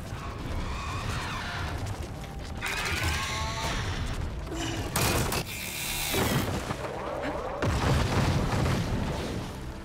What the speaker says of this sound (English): It can also launch acid bombs in quick succession.